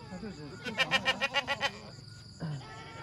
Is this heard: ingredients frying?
no